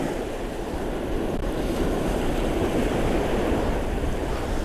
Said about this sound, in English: We've got definitely got some rollers breaking in.